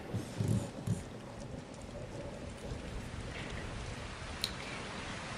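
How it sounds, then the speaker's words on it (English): Rain in a Transformers video game falls as a steady, even hiss, with a few low rumbling thuds at the start and a brief sharp tick later, with no voices. "And now, rain."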